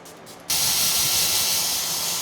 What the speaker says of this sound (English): Spray my face one more time.